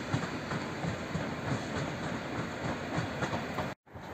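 A train passes through Warszawa Reduta Ordona station with a loud, continuous rumble and a rhythmic clatter of wheels, close by and constant, with a momentary dropout near the end.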